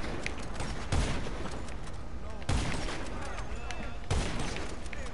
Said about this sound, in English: guess we can start shooting